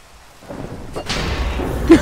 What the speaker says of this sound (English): Well, the thunderstorm now is a good idea.